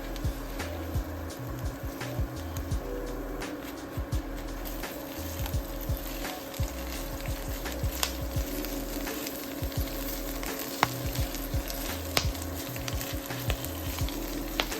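Collard greens are stirred in a frying pan, crackling with a steady sizzle while soft scraping and clicking strokes repeat through it at a moderate, even level.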